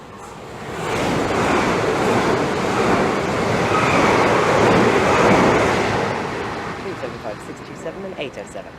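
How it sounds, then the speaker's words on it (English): The Ramsgate train approaches the station at Swanley: a broad rumbling roar swells over the first second, stays loud for several seconds, then fades into lighter rattling as it slows. "as we wait for the Ramsgate train to approach"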